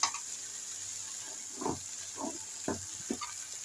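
Okra being fried in a pan with spices in a home kitchen, giving a low, steady sizzle with a few brief stirring scrapes and clatters scattered through.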